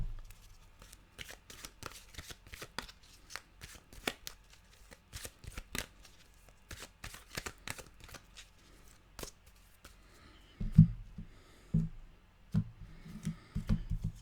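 A deck of animal cards being shuffled, with rapid crisp riffles and flicks repeating for several seconds, then a few heavier taps and handling thumps toward the end, close and quiet.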